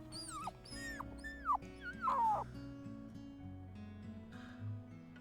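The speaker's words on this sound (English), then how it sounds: "we're hearing quite the bit of howling from Blaze" Wolf howls and whimpering yips from a wolf in the video game WolfQuest, several rising and falling wavering calls in quick succession over a soft game music background, then quieter.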